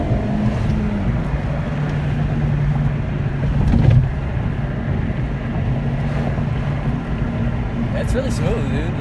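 A Honda Civic Hatchback Sport with a 1.5 turbo engine accelerates, its steady engine drone rising slightly mid-clip and heard from inside the cabin under road and wind noise.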